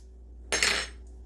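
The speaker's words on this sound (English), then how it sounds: "I just stir them around, get them all even in the bottom of the pot" A single short metallic scrape of a utensil against a pot while stirring Cajun pork chops, close and brief against a quiet background hum.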